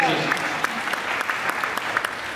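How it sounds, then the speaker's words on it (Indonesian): Sustained applause from a church congregation, dense steady clapping filling the space for a couple of seconds, with faint voices mixed in. "Kasih tepuk tangan bagi Tuhan Yesus."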